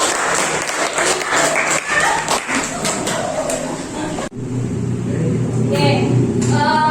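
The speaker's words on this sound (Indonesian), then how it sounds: "Beri tepuk tangan buat semua." Classroom applause for all the presenting groups during a problem-based learning lesson, with sustained dense clapping from many students and chatter and voices mixed in throughout.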